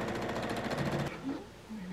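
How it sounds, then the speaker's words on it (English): Sewing machine stitching a quarter-inch quilting seam, a rapid even needle chatter for about a second before it stops, followed by quieter handling sounds. "I'm just gonna sew my 1/4-inch seam again"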